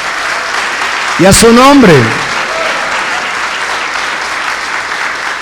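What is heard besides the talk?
audience applauding in church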